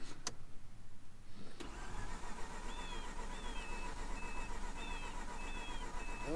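A Mazda RX-8 rotary engine cranking over and over without catching, a steady mechanical churn following a sharp click, with faint squeaks over it and no voices.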